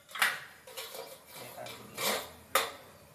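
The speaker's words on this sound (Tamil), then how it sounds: "இட்லி குக்கர் தட்டை வந்து இப்படி கவுத்தி போட்டுக்கணும்." A metal idli cooker plate is set upside down inside a heated pot, giving a few sharp metallic clanks and scraping knocks at close range, with quiet gaps between them.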